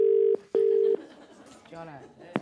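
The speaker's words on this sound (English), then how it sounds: "There it is. It's ringing." Two long steady ringback tones, each about a third of a second, pause then repeat, followed by brief background voices and a short click.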